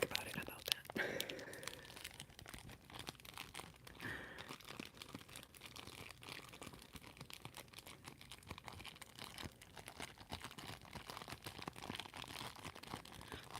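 Paper or plastic is crinkled and crumpled close to the mic in a late-night ASMR session: steady, crackly rustles with sharp crunches, loudest near the start, while soft whispering drifts underneath.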